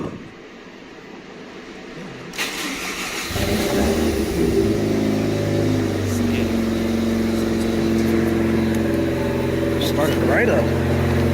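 An engine cranks and catches, then settles into a steady, loud idle with a humming drone, rising slightly as it revs.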